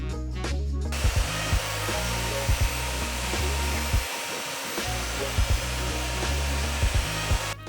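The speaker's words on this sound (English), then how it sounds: "You probably think I'm crazy for polishing my wheels" A rotary polisher works over car wheels, giving a loud, steady motorized whir that dips and surges in short bursts as the pad is pressed and lifted, with no talking.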